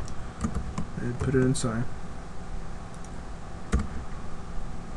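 Typing on a computer keyboard during coding, a few quick clusters of key clicks close by while someone talks over them.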